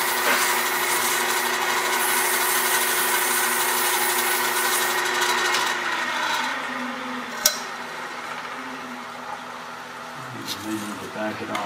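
A wooden box spins on a lathe while a bead is cut and finished, giving a steady rubbing hum that fades midway, followed by a sharp tap and lighter scraping, with someone talking over it.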